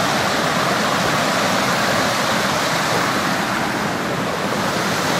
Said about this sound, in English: Been hearing this rushing water for the last 20 minutes of my hike